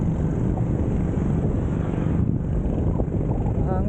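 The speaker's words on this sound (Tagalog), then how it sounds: "Hangin dito." Loud, steady wind buffeting the microphone throughout during a solo motorcycle ride in hot weather in Parañaque, Philippines, a constant low roar with no pauses.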